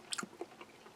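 Soft, close chewing of noodles from a Chinese army combat ration, a few quiet wet bites and crunches over about a second.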